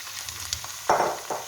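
Onions and bottle gourd and chicken koftas fry in a pan, a quiet sizzle with a few soft knocks and one louder burst of frying as the food is stirred.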